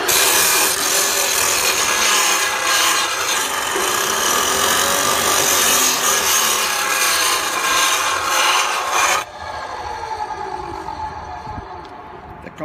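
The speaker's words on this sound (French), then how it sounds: "Je vais vous montrer aussi si je l'avais fait avec la scie à tuyau" Close, continuous rasping of a saw cutting through pipe, harsh and loud, stopping abruptly partway before a quieter scraping tail.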